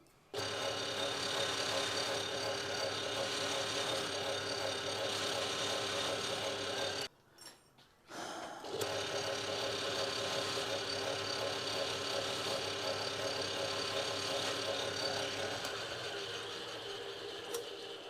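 A machine cuts a small nub to support a spring while a tap follower is being made. The steady close mechanical drone runs throughout, stops briefly, then resumes.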